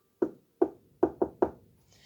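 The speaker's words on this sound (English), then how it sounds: "knock" Five sharp knocks on a hard surface beat out a rhythm for a piano lesson: two evenly spaced, then a quick triple. Each rap is close and crisp with a short decay, and no voices are heard.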